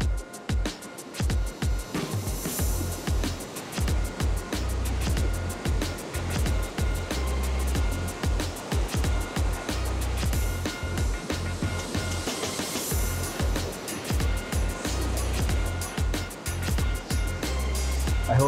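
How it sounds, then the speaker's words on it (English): Waves break on a beach shoreline with continuous loud surf and rushing water, overlaid by steady wind noise buffeting the microphone, with no pauses throughout. "with the waves beating on the shore, it's also kind of noisy"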